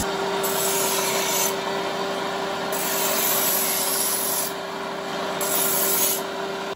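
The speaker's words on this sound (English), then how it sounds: "This is the English wheel Paul's using to..." A sheet metal panel rolls back and forth through an English wheel, also called an Aussie wheel, giving a continuous close grinding rumble that swells and eases with each pass, with no talking.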